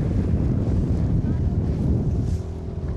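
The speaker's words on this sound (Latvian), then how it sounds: "Vējš pūš." Wind blows over open water in a steady, rushing roar with heavy low buffeting against the microphone, loud and constant throughout.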